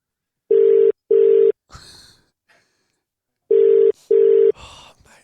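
A telephone handset gives two pairs of short, steady dial-tone beeps separated by a pause, with soft breaths and rustling between them in a quiet room.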